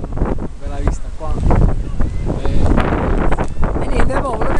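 Strong wind buffets the microphone on a rocky seashore, with gusting roar and low rumble throughout while people talk loudly over it.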